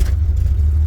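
Chevrolet Opala 250S with Weber carburetion and sport exhaust, hard to start, idling with a loud, deep, steady low rumble close by.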